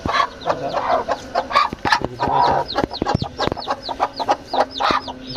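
A hen with her chicks clucks and calls in a village poultry room, with close, uneven clucks mixed with many thin, rapid chick peeps in short bursts.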